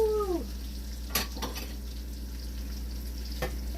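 Sausage fries softly in a pan with a low steady sizzle and a constant hum, broken by a few scraping clacks as it is stirred and chopped.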